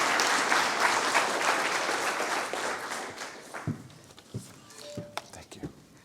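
An audience applauds to welcome speaker Tom Goldtooth at a climate change and Indigenous health event. The clapping is steady and full at first, then fades into scattered claps, footsteps and soft voices.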